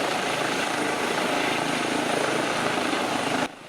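An EC135 helicopter landing in X-Plane 11 gives a loud, steady simulated rotor and turbine roar. The roar cuts off abruptly near the end.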